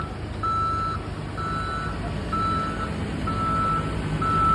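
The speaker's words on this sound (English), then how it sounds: "Slowly bringing the keel over on the 13-ton forklift truck." A 13-ton forklift truck sounds its reversing alarm while carrying a boat keel during assembly, giving five evenly spaced, loud beeps over a steady engine rumble.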